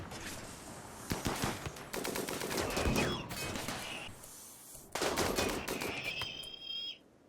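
Rapid bursts of gunfire as colonists shoot robots in the video game Rimworld, set on an ice sheet, with several loud volleys of automatic fire separated by brief pauses and a faint high-pitched whine near the end.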